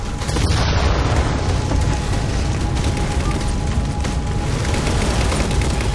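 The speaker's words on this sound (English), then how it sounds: "Target those phantoms for the railgun to shoot down." A railgun fires on Phantoms in the video game Halo 4: a heavy, sustained booming roar with dense crackling bursts that fills the whole stretch at steady loudness.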